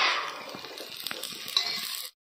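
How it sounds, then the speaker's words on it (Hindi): Chopped onions sizzle and crackle in hot mustard oil in a pan, a steady frying hiss with occasional clicks of a stirring spoon, cutting off abruptly near the end. "अब इसमें प्याज डाल देते हैं।"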